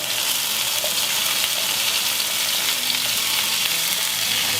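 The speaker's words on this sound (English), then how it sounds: "I'm going to go ahead and add our green pepper." Chopped green pepper sizzles in a pan with frying onion, a loud, steady hiss and crackle of hot oil that holds evenly throughout, close up and without talk.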